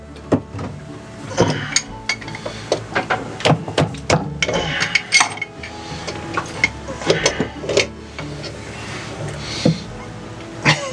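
Irregular metallic hammer strikes on a boat rudder, some sharp and loud, others softer, with scraping and clunking between blows.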